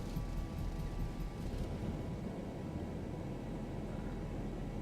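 An airliner in X-Plane 11 rolls through its takeoff from Edmonton, a faint, steady low engine rumble and airflow hiss holding evenly throughout.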